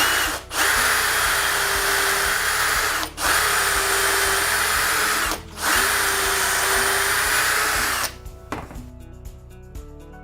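A power drill whines loudly in three long bursts separated by short pauses, drilling pocket holes through a Triton T2 Double Mini Pocket Hole Jig clamped to a table, then winds down as clattering and handling noises follow.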